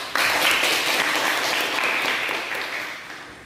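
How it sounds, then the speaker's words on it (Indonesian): Class at a vocational high school clapping together in a round of applause, a dense burst of many hands that starts abruptly, stays loud and close, then tapers slightly over a few seconds. "Buat kita semua tepuk tangan."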